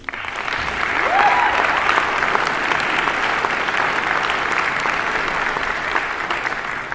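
An audience claps steadily and loudly for brass band soloists at a B and A grade results event, a dense, sustained wash of applause from a large crowd.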